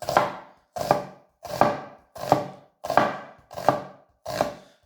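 A chef knife chops an onion finely on a board, seven crisp, evenly spaced chops close up, each a sharp knock with a brief tail, with no talking.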